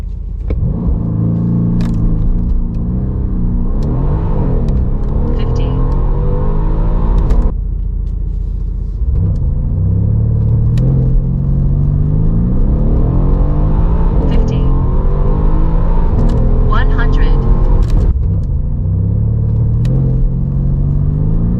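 A Mercedes-AMG C63 with a V8 biturbo engine accelerates hard while struggling for grip, making a loud, continuous close rumble with rising engine pitch sweeps broken by shifts.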